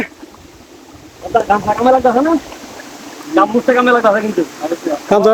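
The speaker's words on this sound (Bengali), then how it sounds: "সাথে রয়েছে ঝর্ণার সেই সুন্দর সাউন্ড" The Khoiyachhara waterfall in Mirsarai, Chattogram, sends out a steady rushing wash of water while someone talks over it close by.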